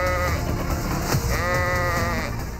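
Several goats bleat together close by, overlapping wavering cries that fill the whole moment, with a steady hum behind them.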